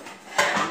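Metal pots and a frying pan being handled in a home kitchen, a single brief clank as cookware knocks together, fairly close.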